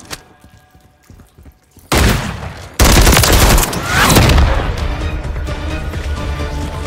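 Call of Duty MW3 gunfire erupts in loud bursts, a sudden rattling volley followed by a second heavier burst of sustained automatic fire and crashing impacts, after a quieter stretch.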